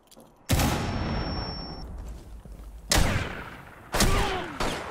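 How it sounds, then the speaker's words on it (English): A grenade goes off in the video game Rainbow Six Siege: a sharp, loud blast with a ringing tail, followed by two more heavy bursts of gunfire and impacts a few seconds apart. "And there's the nade."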